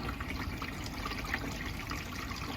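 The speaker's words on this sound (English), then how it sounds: "We are going to let the water out now." Water drains out of a small sink in a Jeep Wrangler JLU camper conversion, making a steady trickling, gurgling flow that stays constant and moderately loud throughout.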